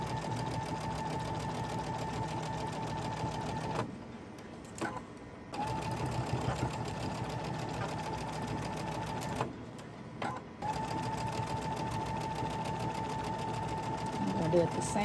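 A sewing machine quilts fabric blocks with a steady, fast whirring hum that stops twice for a moment, while someone talks softly over it.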